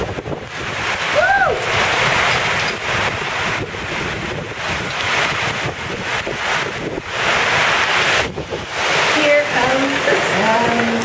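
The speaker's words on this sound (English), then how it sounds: "That's the ocean out there, yes. Right in our lap." Ocean waves and surf pounding in during Hurricane Paul at Cabo, a loud continuous roar with heavy wind buffeting the microphone, brief voices heard over it.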